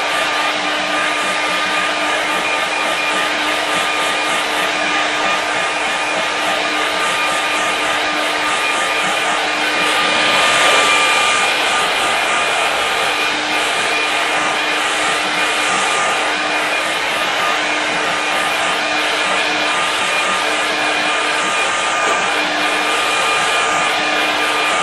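A hair dryer blows over a wet watercolor painting of a loose winter snow landscape, giving a loud, steady, unbroken rushing whoosh that lasts the whole time, with no talk.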